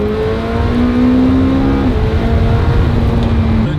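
A McLaren Senna hypercar with around 800 horsepower accelerates hard, its engine a loud, steady drone heard from inside the cabin, rising in pitch and then shifting once near the end.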